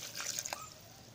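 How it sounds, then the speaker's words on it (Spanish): Soaking water from rehydrated chiles poured into a blender jar, a short close trickle and splash that quickly fades into a quiet background hiss. "Voy a agregar también un poquito del agua en la que se remojaron."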